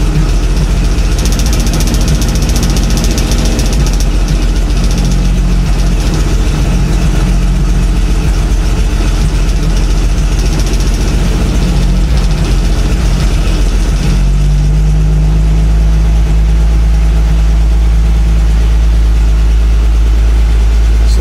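A 1973 Diamond Reo truck, a former township plow truck, idles loudly and steadily while its air system builds pressure, with a constant deep engine drone and a shift in tone partway through.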